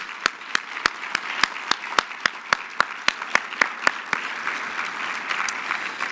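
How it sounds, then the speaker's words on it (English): Applause from a crowd, with sharp, regular claps standing out over a steady wash of clapping, then fading into a dense, even patter. "let's give him another round of applause"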